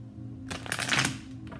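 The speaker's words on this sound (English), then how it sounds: "Let's do one more shuffle." A deck of tarot cards riffle-shuffled once, close and crisp, a quick fluttering burst lasting about a second after a short quiet start.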